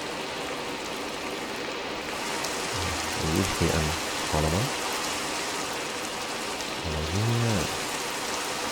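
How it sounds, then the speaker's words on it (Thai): Steady rain pours down in the game Minecraft as a continuous hiss of falling drops, with someone briefly speaking over it partway through. "ผมได้ยินเสียงฝนตกข้างนอก"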